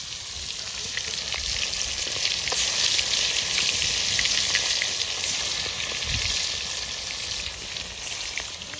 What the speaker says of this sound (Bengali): তেলও দিয়ে দিয়েছি, এবার ভাজি।